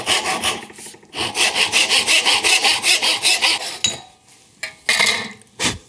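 A handsaw cuts wood for drawer cockbeading with a fast, even run of close, loud rasping strokes, then slows into a few separate scrapes with short pauses between them.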